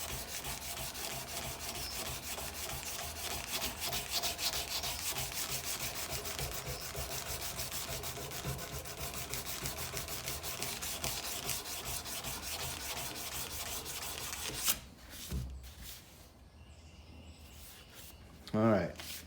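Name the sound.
hand sanding a file knife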